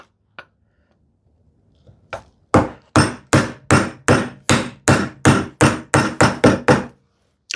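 Chisel chopping into wood by hand, struck with a mallet in a steady run of about a dozen sharp, loud, evenly spaced blows after a couple of isolated taps, close by with no talk.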